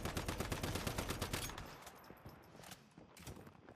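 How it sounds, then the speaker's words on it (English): Rapid bursts of gunfire fired at an enemy in the video game Once Human, dense and loud at first, then thinning into scattered shots over a quieter backdrop. "And now we've distracted him by shooting him"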